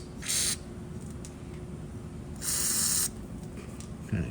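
Lubricant is sprayed onto the e-brake linkage of a 1961 Ford Ranchero in two short, sharp hissing bursts, the second one longer, separated by a quiet stretch of faint background noise.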